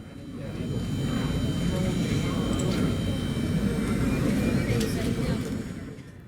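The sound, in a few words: Delta MD-88 jet aircraft landing on runway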